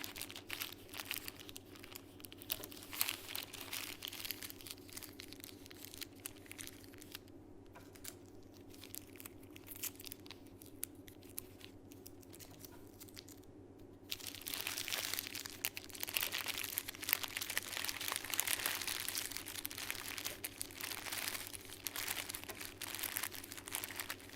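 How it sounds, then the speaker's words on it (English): Tape torn and pressed onto a newspaper carnival head dress, a long run of crinkling, crackling paper and tape noise, quiet at first and growing busier and louder toward the end. "You might want to just add a little bit of tape here and there."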